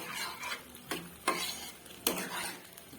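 A cornflour sauce for chilli paneer bubbling over a raised gas flame, soft sizzling and simmering under a few sharp metallic scrapes and taps of a spoon stirring in the pan, fairly quiet and without speech.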